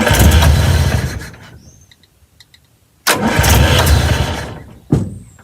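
A Land Rover engine with a nylon-clipped distributor cap cranks and fires in two loud bursts, catching briefly then dying each time, with quiet gaps between attempts.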